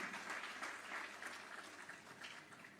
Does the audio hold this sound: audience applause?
yes